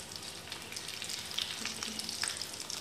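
Potato fritters bubble and sizzle in deep-frying oil with a dense, continuous crackle, moderately loud and close.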